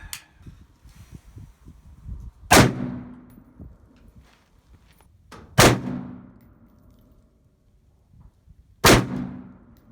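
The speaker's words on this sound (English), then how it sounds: "So shooting that one-handed, the brace really does help." Three loud, sharp gunshots from a pistol fitted with a stabilizing brace and fired one-handed, spaced about three seconds apart, each with a ringing tail over faint background noise.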